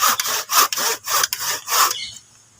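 A hand saw cuts through a plant branch in about five rhythmic back-and-forth strokes, close and loud, then stops abruptly.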